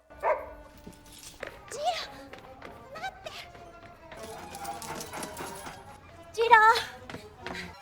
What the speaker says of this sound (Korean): 지루가 짖는 소리에 잠에서 깬 요코는 밖으로 나가보는데